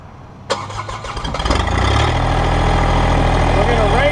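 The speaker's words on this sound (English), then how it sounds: "First step, we're going to need to fire the tractor up." A Massey Ferguson compact tractor engine cranks briefly, catches and then settles into a steady, loud low idle that continues to the end.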